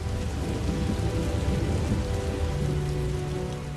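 Steady rain pours down on a night battlefield before combat, a dense, loud, continuous hiss and patter with a low rumble beneath, no voices.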